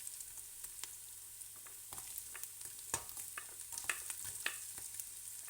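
Carrots fry in oil in a pan, a soft steady sizzle with light crackles and pops that grow busier toward the end.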